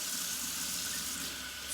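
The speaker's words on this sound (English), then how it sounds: "So I'm just gonna run a little water under here, or over it, just to get the label, the sticky label off" Water running from a tap over a small dollar store plastic item to loosen its sticky label, a steady hissing splash at close range with no talk.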